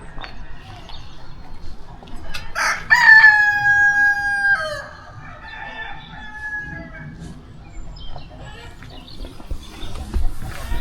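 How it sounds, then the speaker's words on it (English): A rooster on a German farm lets out one loud, clear crow up close, followed by a fainter answering crow, against a quiet rural backdrop with soft murmuring and low ambient noise. "There are so many roosters here everywhere, and they crowing."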